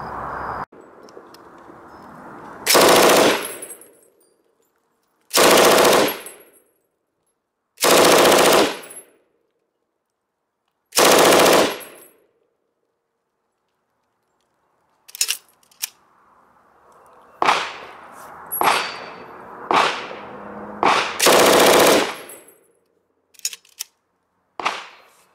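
An MG34 machine gun fires two bursts from a drum magazine, loud and close; several sharp cracking shots at the start are followed by a longer ragged run of rapid shots with brief gaps between them.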